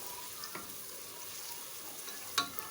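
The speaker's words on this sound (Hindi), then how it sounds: "अब इसमें हम प्याज डाल देंगे। सबसे पहले इसको हम थोड़ा सा ब्राउन करेंगे।" Onions frying in a pan for a chicken dish, a steady soft sizzle throughout with a couple of brief clinks or stirring taps, no talking.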